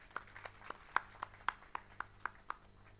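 Quiet, evenly spaced handclaps at an eye institute ceremony, about ten crisp claps in a steady beat from one or two people in an otherwise hushed room.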